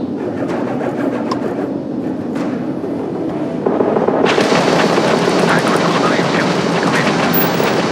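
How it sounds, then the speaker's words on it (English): Spaceship weapons fire in the space combat game Starfield, a loud, dense barrage of rapid shots that grows harsher and fuller partway through, with nothing else breaking through. "The ship's weapons are powering up."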